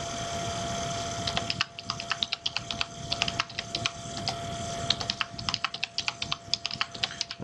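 Keys clatter on a computer keyboard as a password goes in, bursts of quick close clicks separated by short pauses, with a faint steady hum underneath and no talking.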